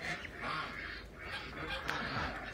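Pekin ducks and American ducks crowded together in a coop, with geese nearby, keep up a steady, fairly faint chatter of overlapping quacks and honks that rise and fall without a break.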